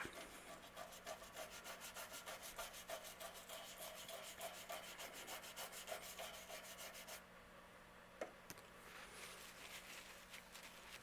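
Rubbing alcohol being scrubbed over a circuit board to clean off solder flux, a quiet rapid back-and-forth rubbing with a regular rhythm, close and faint, then one brief knock before softer rubbing continues.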